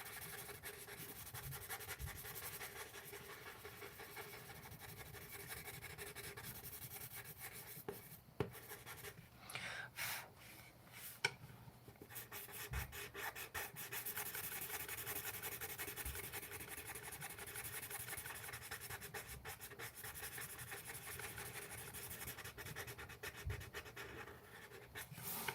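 A colourless blender pencil scratches steadily across paper while someone draws a Harry Potter piece, giving a continuous close rasp with small variations in pressure and a few brief louder strokes.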